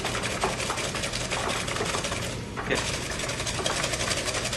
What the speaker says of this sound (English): The more you whisk this, you get more air into the egg yolks.